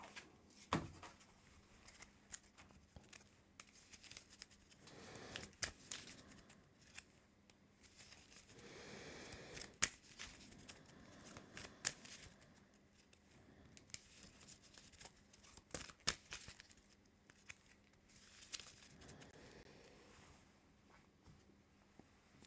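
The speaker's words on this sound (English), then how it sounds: "We got to shuffle this up." A deck of game cards being shuffled at a tabletop, with repeated soft riffling and flicking bursts spread over a long stretch, quiet and close.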